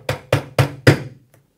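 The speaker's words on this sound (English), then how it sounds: "taking your hammer and using the rubber part of the hammer, just tap it down" Four sharp, evenly spaced taps from a rubber mallet knocking a furniture leg down onto its lug on a Cooke & Lewis 500 three-drawer unit, loud and close, followed by a faint tick.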